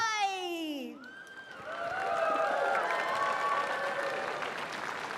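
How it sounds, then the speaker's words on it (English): After a short burst of sound, a crowd applauds at a GT World Challenge Asia podium ceremony at Sepang, a broad, steady clapping that swells and holds at moderate volume. "Please welcome with applause."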